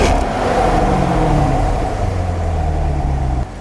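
A 2014 Chevrolet Corvette LT engine rumbles loudly close by, revving with a deep throaty exhaust note that rises and settles back toward idle.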